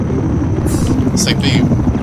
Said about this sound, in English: Spotted an enemy helicopter!